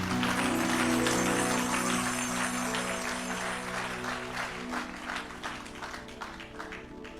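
Church congregation applauding loudly, sustained clapping from many hands over a steady background of music, the claps growing more distinct as the music fades toward the end.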